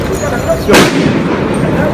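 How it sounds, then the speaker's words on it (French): A firecracker goes off during street unrest in Paris, giving one sharp, loud bang that stands out from a steady roar of crowd and street noise. "sur ces images avec ces pétards qui font sursauter un peu tout le monde"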